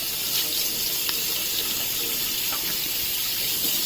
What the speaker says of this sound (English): I'll just allow the water to run over that area and to remove all those slimy waste